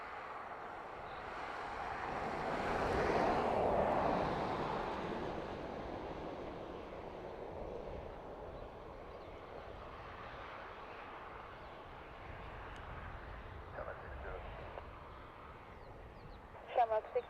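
A TAP Embraer E195 jet arriving from Lisbon at Dublin Airport: the engine roar swells to a peak early on, then slowly fades into a softer, distant rumble with faint wind noise.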